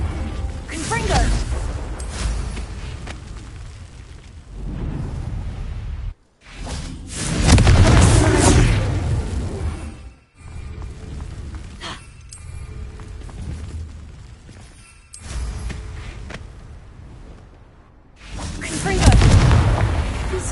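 Confringo fire spells explode repeatedly in the video game Hogwarts Legacy, a series of loud booming blasts with short gaps between them, spread across the whole stretch alongside other game sounds.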